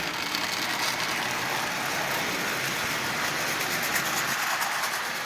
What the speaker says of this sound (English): But this locomotive is running just absolutely splendidly.